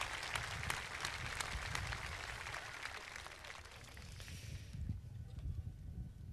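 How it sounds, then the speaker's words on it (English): Applause from a high school graduation audience in Garden City, a dense wash of distant clapping that thins out after a few seconds, with some low rumble underneath. "Yeah, you can clap for that."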